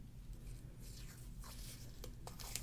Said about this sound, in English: we're gonna tape this with some low tack tape